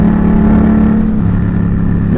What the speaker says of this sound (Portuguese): MT-07, uma moto aí de 2 cilindros.